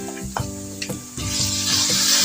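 A spoonful of garlic ginger paste is added to fried onions in a pan for dhaba-style chana daal fry, a short clatter and scrape that swells into a building, hissing sizzle with no talk.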